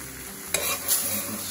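Butter is stirred into a chicken and mushroom pan sauce, giving a soft, close sizzle with a couple of brief utensil scrapes across the pan, quiet and short with no voices.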